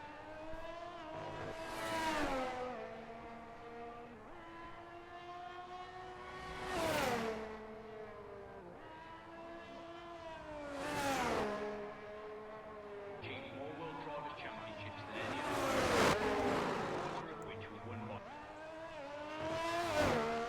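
A Haas Formula car in a racing video game laps the Miami circuit, its engine note rising and falling in repeated surges as it accelerates and shifts, with a commentator talking over the steady whine.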